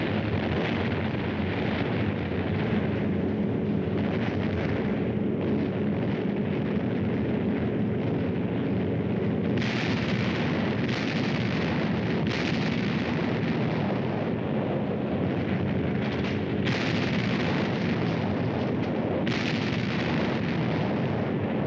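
Explosions from a massive Allied bombing raid on German strong points during the WWII Italian Campaign, a continuous dense rumbling roar of blasts with several sharper bursts, loud and unbroken throughout.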